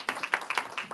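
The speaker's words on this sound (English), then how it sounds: "let's give these gentlemen a round of applause." Audience applause for a group of gentlemen at a live talk-show event, a short burst of fairly close, brisk clapping with uneven bursts.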